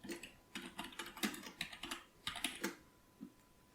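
Fingers tap a computer keyboard in quick irregular bursts of crisp clicks with short pauses between, close and alone in a quiet room.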